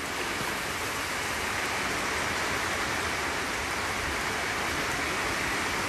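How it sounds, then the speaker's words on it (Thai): Heavy rain pours down outdoors in a dense, continuous roar that stays loud and unbroken throughout. "ฝนมาแล้วแรงเลยทีนี้"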